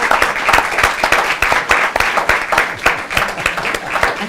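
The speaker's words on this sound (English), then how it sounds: "Can we give a big round of applause?" Audience applause after an energy symposium panel, a steady wash of many hands clapping close by at an even level throughout, with no talk over it.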